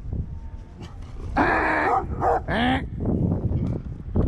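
A dog barks and yips in a few sharp bursts close by, with whimpering between them, while a man drives it off during a roadside towing job.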